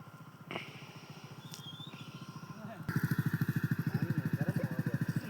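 Motorcycles pass along a flooded village road in Jalalabad on an evening around 6:30, their engines giving a steady pulsing putter that grows louder and nearer partway through, with voices talking over them.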